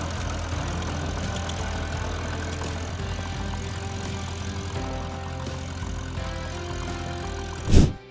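A century-old 1905 Otto engine runs steadily just after a cold start, a low continuous rumble with a loud burst near the end.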